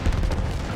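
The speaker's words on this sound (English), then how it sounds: "The explosions and the atmosphere are beautiful, and the big guns on the ship," Explosion and big ship guns firing in the Battlefield 1 video game, a dense, heavy rumbling boom that rolls on without a clear break, loud and close.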